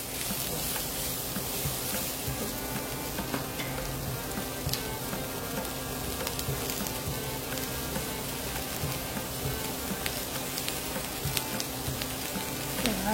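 Four onions with a little salt frying in a pan, giving a steady, continuous sizzle at moderate level with faint crackles throughout and no talking.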